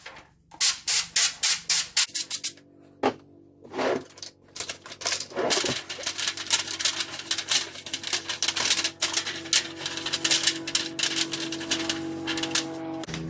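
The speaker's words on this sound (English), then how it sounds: "Spray some olive oil." Olive oil is sprayed onto a baking sheet in a run of short, rhythmic spray bursts, followed by a longer stretch of continuous hissing spray and light clattering, close by.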